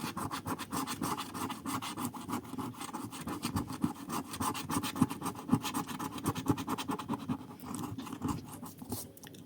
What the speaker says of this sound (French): il me reste plus que 3 tickets à gratter